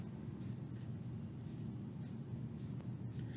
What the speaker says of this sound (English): the first thing we would want to do is draw Sam's fruit bar